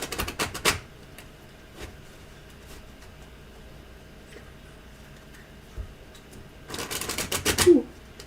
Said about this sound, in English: Yes, Sonny, I'm shuffling